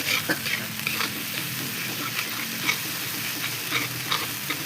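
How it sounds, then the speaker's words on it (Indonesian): Spices sizzle and crackle in hot oil in a pan while being stirred, a steady frying hiss with soft scraping strokes and small spatters throughout, close and fairly loud, with no talking. "pami ngagoreng bumbu"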